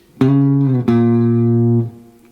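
A plucked jazz guitar phrase of two notes, second to minor third, the second held long with a smooth slide in pitch before it cuts off.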